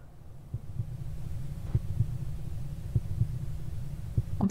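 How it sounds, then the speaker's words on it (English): A steady pounding heartbeat plays under a low hum in the horror dating game Sucker for Love, its soft double thumps repeating evenly at close range. "Can you hear the heart pounding in the background?"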